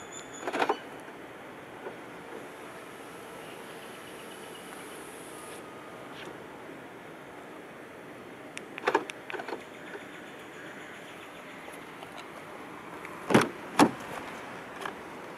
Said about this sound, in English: to roll them back up together, just press and hold on the lock button